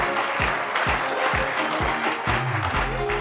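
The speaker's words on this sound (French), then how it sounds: "Merci de l'applaudir encore une fois." A studio audience on a French television talk show applauds a guest, a dense burst of clapping that stays loud and even for a few seconds.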